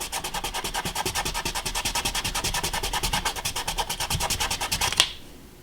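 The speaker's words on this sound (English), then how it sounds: "that I've learned to get super glue off of your fingers is to take a piece of sandpaper" Sandpaper rubs briskly back and forth across fingertips to remove super glue, a close, fast, regular scratching rhythm of about ten strokes per second that stops abruptly.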